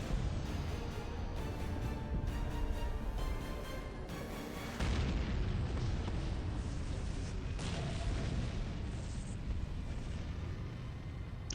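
A big missile explosion in Halo 4 lands as a loud, sustained rumbling blast over continuous battle noise, with a heavy burst partway through and a long roaring tail.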